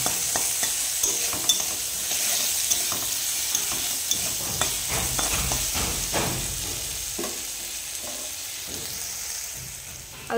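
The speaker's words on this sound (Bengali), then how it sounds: "দিয়ে একটু ভাজা ভাজা করে নেবো ভালো" Chopped potatoes fry in oil with salt and turmeric and give a steady close sizzle, broken by repeated scraping and clacking from a spatula as they are stirred, with no talk.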